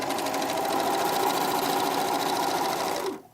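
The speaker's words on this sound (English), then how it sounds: "all you have to do is keep this in the guide as you sew and let the machine do the gathering" An Elna serger sewing machine runs steadily while gathering a fabric ruffle onto a base fabric, a close, loud, continuous whirring hum with rapid stitching rhythm that stops abruptly near the end.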